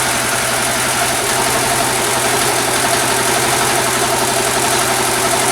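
A repaired Mustang 125 motorcycle engine idles steadily and loudly up close with a slight knock, a dense even rumble that neither rises nor falls and has no voices over it.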